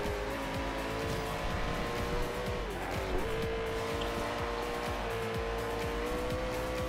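Koenigsegg Agera race car in Forza Horizon 2, its engine droning loudly and continuously while the tires squeal and skid through corners, with gear-change pitch sweeps throughout.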